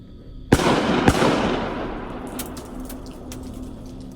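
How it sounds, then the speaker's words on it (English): Two sharp gunshots ring out about half a second apart near a campsite in the woods, each a hard crack followed by a long, fading echo rolling through the trees, with faint outdoor ambience after. "Another gunshot."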